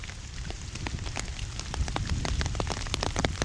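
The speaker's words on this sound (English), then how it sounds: "It's windy and rainy." Rain falls steadily on an outdoor lakeshore, a dense hiss of drops with scattered sharper patters and a low wind rumble running underneath throughout.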